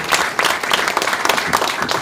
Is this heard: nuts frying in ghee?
no